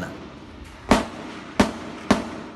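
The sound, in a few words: gunshots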